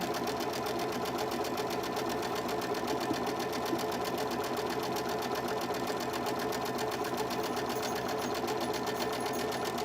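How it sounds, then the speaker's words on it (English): A sewing machine runs steadily while stitching fabric for pleats and ruffles, its fast even needle rhythm close and continuous, with no talking. "you'll need to put a piece of fabric underneath there and sew a little bit"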